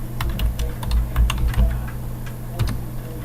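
A Linux command is typed on a computer keyboard as a close run of crisp, irregular keystrokes, with no talk over them.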